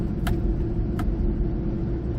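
Volvo with a 2.4-litre five-cylinder turbo petrol engine on the move, heard from inside as a steady low road and engine rumble with a couple of faint ticks.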